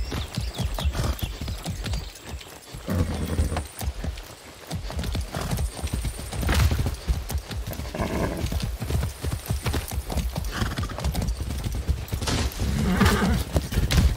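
Far Cry 6 horse gallops with a quick, steady clip-clop of hooves and gives loud neighs throughout. Bursts of game action sit in the background and a brief voice line is spoken.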